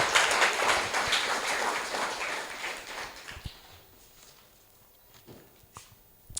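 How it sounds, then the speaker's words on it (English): An audience at a luncheon on preventing gender-based violence applauds in a fairly loud burst that fades over about three seconds, leaving scattered faint claps and shuffling. "may we please give a round of applause to Uspogazi Tau"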